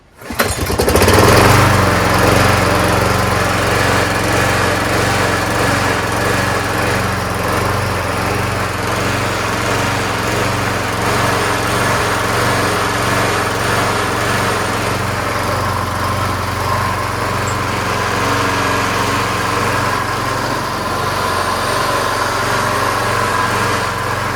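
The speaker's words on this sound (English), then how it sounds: "The other 2 that I took out to sell to somebody fired right up." A push lawnmower engine fires up and runs on, a loud steady buzzing drone with a low throbbing hum that holds even throughout, close by and with no voices over it.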